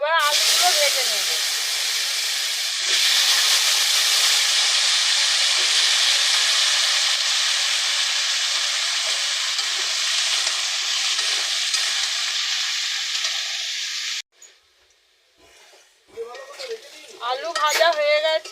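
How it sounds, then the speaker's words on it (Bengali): Potatoes frying in oil for a potato-and-rohu curry, a loud continuous hissing sizzle that fades after a while, with a brief voice at the start and talking near the end. "এবার আলুগুলো ভেজে নেব।"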